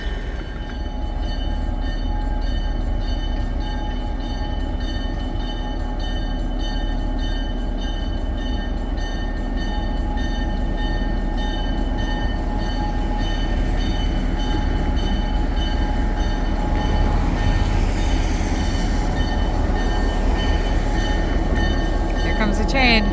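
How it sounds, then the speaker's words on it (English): New Hope Railroad train passing by at close range near Lambertville, a steady loud rumble of wheels and cars rolling through for over twenty seconds, with a brief horn-like tone and some background voices. "Choo-choo is coming on through."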